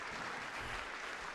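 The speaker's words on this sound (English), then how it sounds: "let's give them a round of applause" A room full of people at a community college conference applauds, dense continuous clapping at steady volume for the whole short stretch, with no voices standing out.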